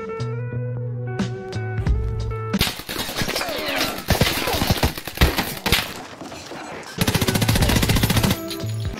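Automatic gunfire in the video game Escape From Tarkov, sharp rapid bursts and single shots at close range, separated by stretches of quieter in-game sound and a brief voice.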